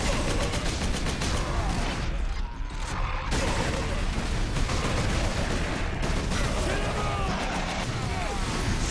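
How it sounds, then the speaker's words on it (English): Dense, chaotic gunfire and explosions crackle and boom nonstop in a loud Warhammer 40K: Space Marine video game battle, with a voice talking over it. "Oh god, there's explosions everywhere."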